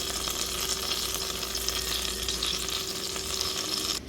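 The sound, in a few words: reheating beef in a pan on low heat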